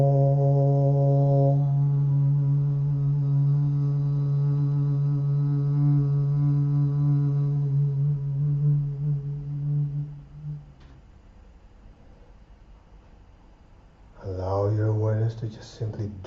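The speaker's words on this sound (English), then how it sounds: "I will chant Om" A single voice chants a long, deep, sustained Om for a full moon meditation, holding a steady resonant tone that fades out, followed by a short pause and then a brief spoken phrase.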